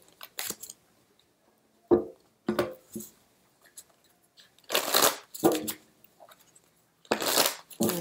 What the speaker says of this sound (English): do some mixing online here, shuffling